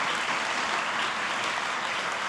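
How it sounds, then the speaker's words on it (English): A full crowd applauds the other finalists at a Teacher of the Year ceremony, a continuous, dense wash of clapping at a steady loud level with no voices. "If we can give them another round of applause."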